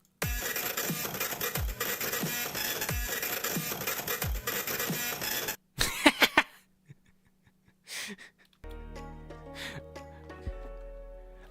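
A printer-based song conceived for Undertale/Deltarune: rhythmic mechanical printer whirring and clacking pulses form a loud repeating beat, then break off into scattered clicks and a short electronic melodic passage with low tones.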